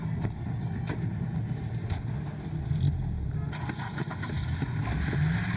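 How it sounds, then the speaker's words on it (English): A car chase in The Wolf Among Us, with a continuous engine roar and road rumble interrupted by scattered knocks and impacts throughout. "Car chase?"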